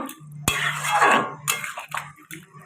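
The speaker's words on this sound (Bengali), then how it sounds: "এবার আমি ভালো করে মিশিয়ে নেব" A jackfruit curry being stirred in a cooking pot after hot water is added, with close metallic scrapes and clinks of a spoon against the pot and a brief sharp knock near the start.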